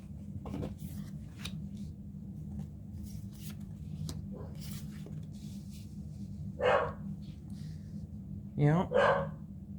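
A few sharp dog barks ring out toward the end, two bursts close together, over a steady low background hum and a faint voice.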